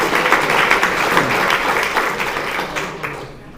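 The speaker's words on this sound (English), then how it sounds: "A round of applause for our" A banquet crowd at an annual awards dinner breaks into sustained applause, a dense wash of many hands clapping together that stays loud and steady before gradually tapering off near the end.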